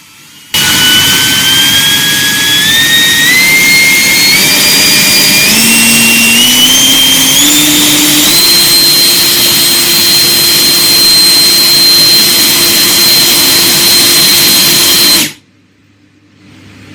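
A battery-powered handheld dust blower from Temu whines loudly and steadily. Its pitch steps up in stages as it speeds up, then it holds a high jet-like roar before cutting off abruptly near the end.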